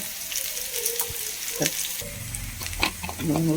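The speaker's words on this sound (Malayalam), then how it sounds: "ഉള്ളി അരിഞ്ഞത് ഇട്ട് കൊടുത്തു ഒന്ന് മൂത്ത് വരട്ടെ" Chopped onions frying in a pan for an instant mango side dish give a steady close sizzle with a few stirring scrapes and clinks, heard alone.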